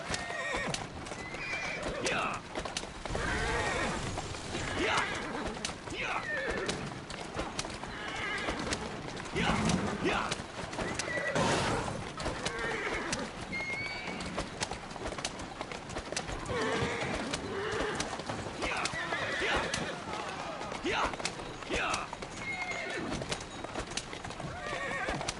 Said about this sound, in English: apparently a horse and carriage can drift